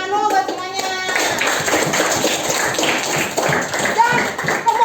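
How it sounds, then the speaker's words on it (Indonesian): Schoolchildren in an elementary classroom applaud a group after its presentation, a dense burst of many small hands clapping close by, with a teacher's voice heard at the start and children's chatter mixed in. "Beri tepuk tangan dong untuk kelompok Mas."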